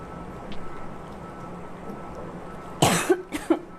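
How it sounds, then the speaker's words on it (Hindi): A quiet room, then a few sharp coughs close by near the end, in quick succession. "खांसी क्यों हो रही है?"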